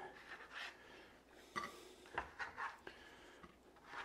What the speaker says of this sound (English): So we'll just take our cookies off, and you see how by letting them sit on the pan, they come off easily and are nice and firm.